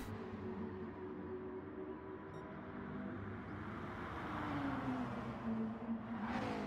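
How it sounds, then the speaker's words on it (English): Racing cars in a Gran Turismo league race drone and whine as their engines rise in pitch under acceleration and then fall, the sound faint and continuous and swelling slightly toward the end, with no voices. "we want to hear the car sounds"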